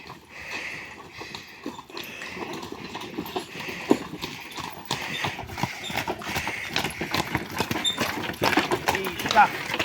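Steady clip-clop of horse hooves at a walking pace, close by, with a person talking over the hoofbeats throughout.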